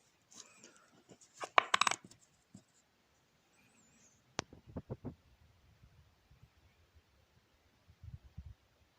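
A 1996 hryvnia coin drops with a bright metallic ring and a few quick bounces, followed by small clicks and rattles as it settles, close and alone in a quiet room.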